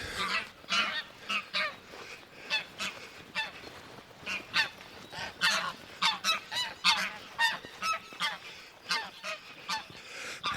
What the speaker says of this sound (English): Oh, there go the greylags.